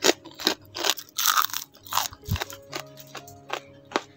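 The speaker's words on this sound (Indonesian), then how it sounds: "bikin pisang goreng wijen mini. Rasanya tuh enak banget, manis gurih, teksturnya juga super kriuk" Mini fried sesame banana fritters are bitten and chewed, giving a series of sharp, close crunches and crackles in an irregular rhythm with no talking.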